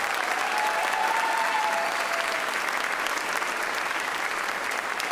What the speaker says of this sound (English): So let's give one more big round of applause to Mr.